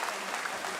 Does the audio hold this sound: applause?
yes